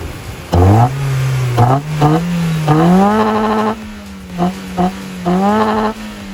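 A BMW E36 sports car engine revs hard in repeated bursts, its pitch climbing and dropping between throttle blips, loud and close.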